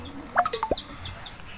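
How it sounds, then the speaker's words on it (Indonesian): A few short chicken clucks in quick succession, close by, over a low outdoor background hum. "ini hayam"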